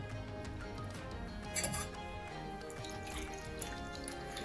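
Homemade oat milk trickles and drips through a fine straining cloth set in a sieve, a soft close liquid pour with a few faint clinks, quiet and steady.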